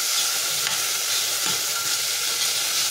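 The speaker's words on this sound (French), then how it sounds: "Là je vois que ça cuit très fort malgré le fait que j'ai baissé mon feu." Food frying hard in a pan on the stove, a loud, steady sizzle that stays strong even with the heat turned down, with a few faint clinks of stirring and no talk.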